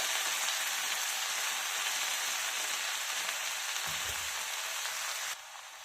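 Coriander and tomato for chutney fry in oil in a pan, giving a steady, even sizzle with a brief low stirring bump midway and the hiss softening just before the end.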